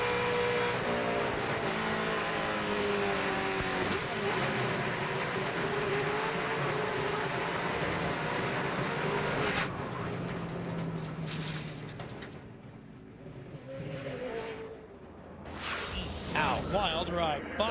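ARCA stock cars crashing on the banking during the 2005 Advance Discount Auto Parts 200, engines roaring loud and continuous with a rough, broken surge of impact noise later, under a commentator's voice.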